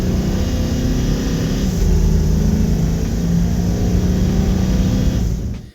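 A Ford 7.3L box truck accelerating at full throttle, with a loud, steady, close engine roar that holds through the whole stretch and cuts off at the end; no talk.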